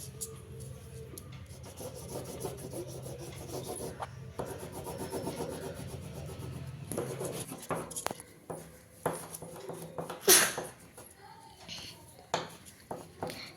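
Crayon or colour pencil rubbing steadily across paper while shading a flag drawing in orange, a soft close scratchy rasp that continues throughout, with sharper strokes and taps toward the end.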